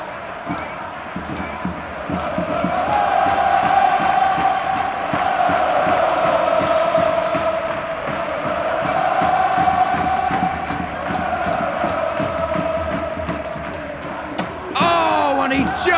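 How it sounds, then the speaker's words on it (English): A large crowd roars and cheers continuously at a sporting match, a dense sustained wall of voices swelling and easing, loud and distant-sounding, with a sharp thump near the end. "And the crowd is going absolutely wild."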